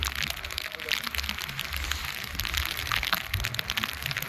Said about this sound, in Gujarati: વરસાદ આ વરસાદ છે